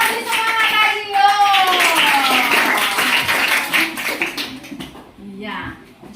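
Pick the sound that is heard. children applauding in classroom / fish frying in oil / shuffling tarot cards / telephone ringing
children applauding in classroom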